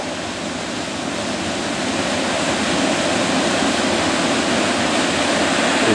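Continuous hiss and rush of a stream flowing below a hiking trail in the Creuse countryside, steady and fairly loud, swelling slightly after the first couple of seconds, with no talking.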